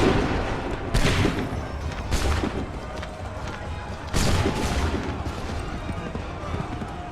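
A volley of musket gunfire in Assassin's Creed 3 Remastered, several booming shots spread over the seconds in bursts, loud and echoing, layered over continuous battlefield noise.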